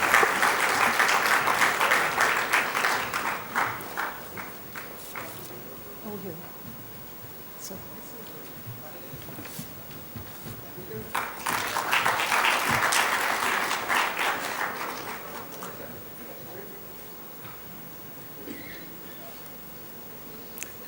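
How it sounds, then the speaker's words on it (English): Audience applause at a business session of a freight forwarders' conference, two loud bursts of sustained clapping around a quieter stretch of scattered claps and murmur. "Let's have a warm round of applause,"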